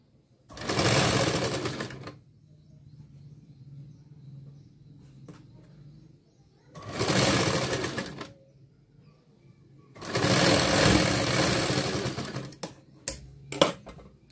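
A sewing machine stitches a 38-inch princess cut blouse along a curved seam in three loud, steady whirring runs, the last one longest, separated by quiet pauses and ending in a few sharp clicks.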